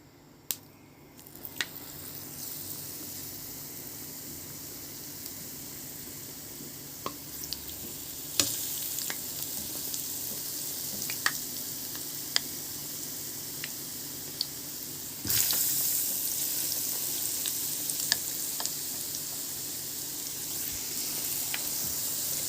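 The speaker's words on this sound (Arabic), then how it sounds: "وحطيت فيها الزيت عشان خاطر اقلي فيه القرنبيط." Battered cauliflower fries in oil with a continuous quiet hiss, marked by scattered sharp pops and small clicks that grow brighter and louder about two-thirds of the way through.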